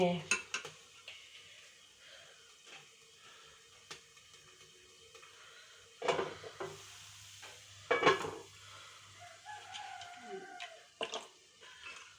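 Faint frying sizzle in a pan, broken by a few louder clatters of utensils and a scraping stir, with quiet gaps between.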